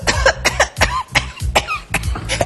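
A voice imitating whooping cough, delivering a rapid series of about eight harsh, convulsive coughs in close succession, loud and near, with a whistling edge.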